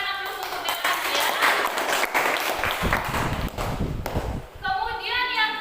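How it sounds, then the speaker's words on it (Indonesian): A classroom gives a student a round of applause, mixed clapping and tapping at moderate volume, with a voice speaking near the end. "Berikan aplaus untuk Belas ya"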